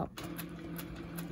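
A sewing machine stitches a quilt along a ruler template curve, a brief steady mechanical whir close by.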